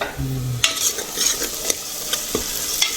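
Onions sautéing in a pan for a meat curry, close and loud, with a spatula scraping and stirring in irregular strokes over a steady sizzle, no voices.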